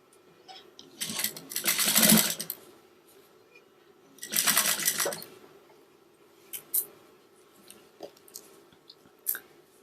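A sewing machine stitches a zipper using a zipper foot while making a pillow cover with cording. Two short bursts of fast, whirring stitching are heard, followed by a few small, sharp clicks and handling sounds.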